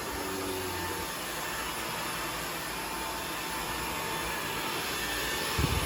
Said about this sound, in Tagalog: we're gonna try the vacuum if it works well.